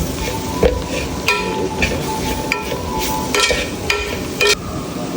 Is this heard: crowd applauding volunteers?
no